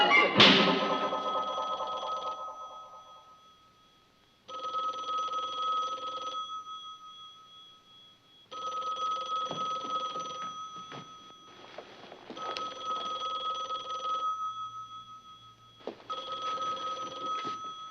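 An old-style telephone bell rings in repeated bursts of about two seconds each, separated by short pauses, fairly quiet and with no one talking.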